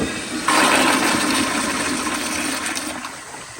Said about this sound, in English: So here is a flush.